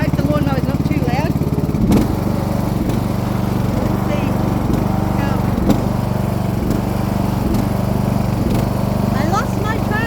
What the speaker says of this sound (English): Hope the lawnmower's not too loud.